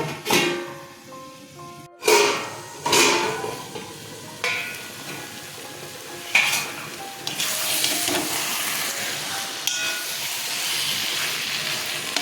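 Taro leaves cooking with a hilsa fish head in a pan, stirred continuously, with several sharp scraping clatters early on and then a rising, steady frying hiss, close and with no talking.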